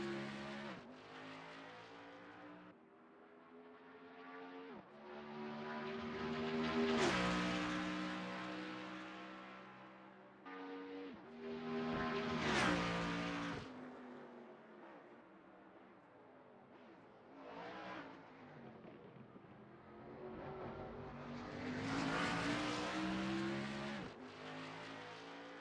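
Race cars lapping Road America in a racing video game, engines roaring loud and continuous with repeated revving climbs and gear-shift drops, sweeping up and down as cars accelerate and brake through corners.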